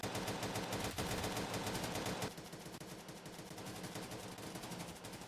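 Dense, continuous automatic gunfire fills a competitive video game match, rapid bursts layering into a loud, sustained exchange that drops slightly in level partway through but keeps rattling steadily.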